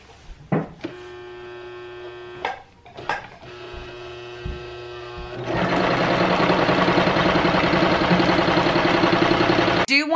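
Sewing machine running a simple straight seam on a carrot-shaped Easter craft, starting and stopping in short bursts with a steady mains hum, then stitching continuously and loudly to the end.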